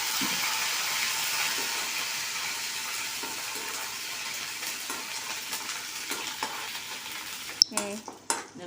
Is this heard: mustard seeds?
yes